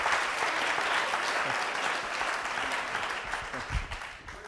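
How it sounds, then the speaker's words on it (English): An audience at a Kristallnacht commemoration event applauds steadily, a dense wash of clapping that holds even and then thins slightly toward the end, with no talk over it. "The applause is for Elmedi, right?"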